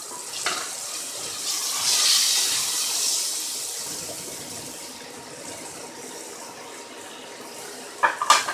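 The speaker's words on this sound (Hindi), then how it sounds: "माड़ा जिहा पानी का छिट्टा दूँगी क्योंकि मिर्च सड़ ना जाए।" Water splashed into a pan of frying chillies while cooking aloo baingan sabzi, a loud hissing sizzle that swells early then slowly fades, followed by a couple of brief clinks near the end.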